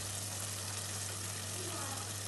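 Masala paste frying in a pan for a Chettinad-style country chicken curry gives a steady, even sizzle that holds unbroken throughout, with no voices over it.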